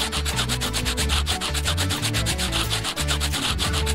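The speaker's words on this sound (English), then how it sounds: "We need to sand these noodles down," Pool noodles being sanded flat, a steady close rasping rub that continues without pause, with a low rhythmic thumping underneath throughout.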